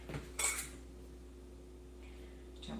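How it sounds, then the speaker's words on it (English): A little spatula scrapes tofu skin roll filling from a bowl. A quick metal-on-dish clink and scrape comes early, then quiet, and a faint second scrape follows near the end. "I'm going to bring out a little spatula so I can start scraping the bits"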